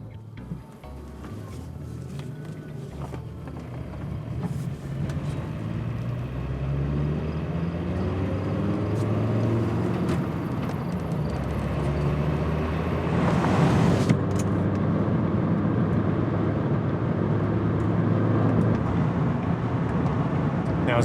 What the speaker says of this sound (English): as you get up to proper speeds in this 1997 Volvo, we truly find that despite its boxy appearance, it has an elegantly smooth and silent driver's experience